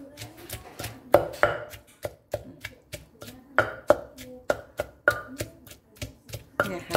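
Chilies pounded in a mortar while making a Thai fish dip with mackerel, a steady series of sharp, close thuds roughly every half second, evenly paced and loud, with no talk.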